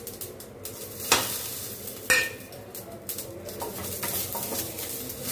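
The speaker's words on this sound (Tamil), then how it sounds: "எண்ணெய் நெய்யோ எண்ணெயோ ஊற்றி நம்ம தாளிதம் பண்ணிக்கலாம்." Mustard seeds and urad dal sizzle and crackle in hot ghee in a kadai, with a steady frying hiss, a couple of sharp pops and scraping stirs, close and alone with no voices.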